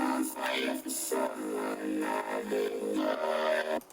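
Layered synth chords built from a plain saw, a detuned saw and a bass layer in FL Studio, a bright buzzing stack playing a short chord progression at moderate level, alone without voices.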